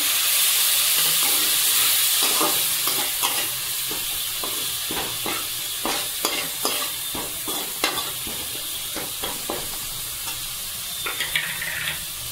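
Ground spices stirred in a pan with a splash of water for a quick chicken curry, giving a loud, continuous close hiss and sizzle cut by frequent irregular scraping strokes of the spoon.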